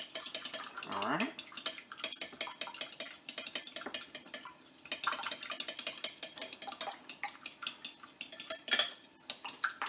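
A fork beats egg and wet ingredients in a bowl, giving rapid, uneven clinking and scraping of metal against the bowl in quick bursts, close and continuous for several seconds.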